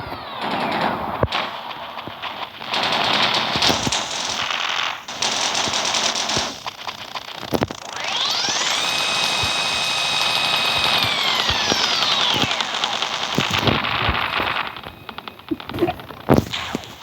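Automated turrets in the survival game Rust fire near-continuous machine-gun bursts, loud and close, broken by short pauses, while a rising and falling helicopter-like whine sweeps through the middle.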